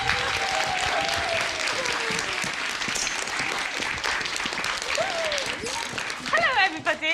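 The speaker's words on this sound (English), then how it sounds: "we're going to give a big cheer, a big round of applause, a big welcome to Zanib," An audience at the Luton Literature Book Festival claps and cheers to welcome author Zanib Mian, sustained loud applause with whoops and shouted voices rising near the end.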